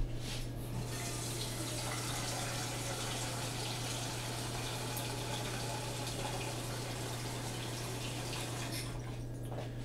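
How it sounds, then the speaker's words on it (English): Tap water runs steadily into a pot holding about two pounds of potatoes, a continuous close gushing stream that stops just before the end, over a low electrical hum. "need a little more water to get over"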